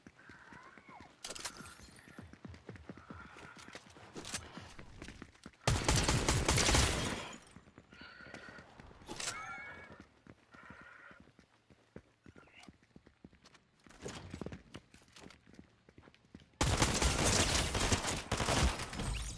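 Bursts of rapid gunfire ring out in an Assassin's Creed game amid scattered clicks, footsteps and clip-clopping hooves, with two loud, sustained volleys standing out.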